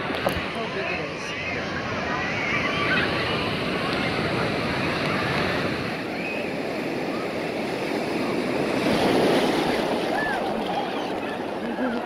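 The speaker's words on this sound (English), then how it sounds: "Oh, here comes a wave." Waves roll through the wave pool at Disney's Typhoon Lagoon water park, a steady broadband wash of surging water with a swell toward the end, mixed with wind and distant crowd noise.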